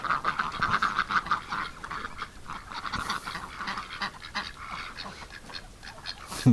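Ducks quack and mutter near the microphone, a steady busy stream of calls over a scratchy, muddy background on a winter night during chores, with no voices.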